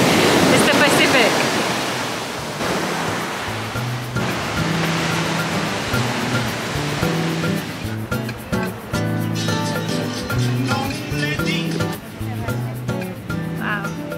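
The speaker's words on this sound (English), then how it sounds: "I feel like the ocean is going to get me." Pacific Ocean surf at Vina del Mar beach: a loud, broad wash of breaking waves opens the clip, then settles into a steady background beneath voices and tonal sounds.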